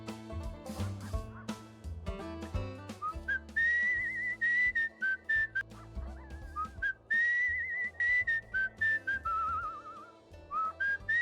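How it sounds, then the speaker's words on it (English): Melodic whistling from a character in the video game Where the Water Tastes like Wine, wavering tunefully over a steady music backdrop with no talk. "How do you whistle again?"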